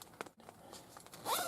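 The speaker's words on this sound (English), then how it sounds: "Our zippers, nice smooth action on that. Double zipper," Zipper on a NatureHike Star River 2 camping tent with double zippers, a quiet scratchy pull running through and ending in a louder, brighter zip burst, with light rustling and no talk.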